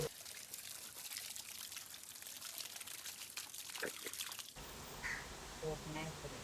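Water is quickly splashed and poured over freshly caught fish, with dribbling and splashing bursts, faint voices in the background, and a shift to a busier wet clatter near the end.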